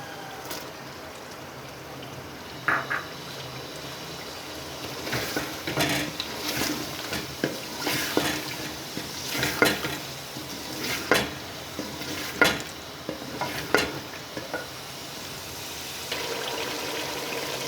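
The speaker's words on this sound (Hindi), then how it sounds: "अब इसमें मटर ऐड करते हैं।" Peas go into potatoes that have been frying in a pan for aloo matar, followed by a spatula scraping and stirring with irregular clinks and a soft sizzle, moderately close and without talk.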